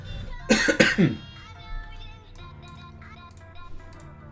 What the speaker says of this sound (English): Sorry for just coughing right in the mic there.